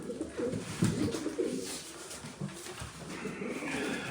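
Pigeons, including tumbler pigeons, coo in low, throaty murmurs, repeated and overlapping, close by against a soft background hum.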